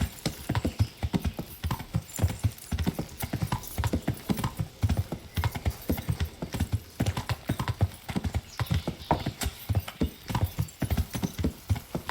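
Rhythmic clip-clop of horse hooves trotting at a steady pace in the video game Kingdom Come: Deliverance, close and continuous, with a faint mechanical background and no voices.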